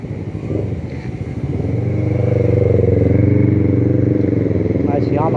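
A motorbike engine approaches and rises into a loud, steady drone as it passes close by on a street in Ho Chi Minh City, Vietnam, with other traffic noise around.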